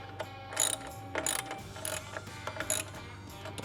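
A ratchet tightens the clamp bolts on a Harley-Davidson engine guard crash bar, giving repeated quick clicking pawl strokes in uneven bursts, close and fairly loud, with no talking.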